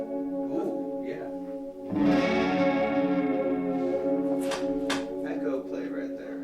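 An electric guitar played through an echo effects pedal rings with sustained, washed-out repeats and a watery chorus-like shimmer, a strummed swell swelling loudly midway and decaying into trailing echoes.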